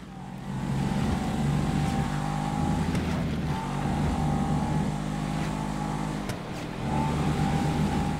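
A car engine drones steadily at speed in GTA 5 Online, a loud continuous road roar with slight pitch shifts as it races along, with no talking.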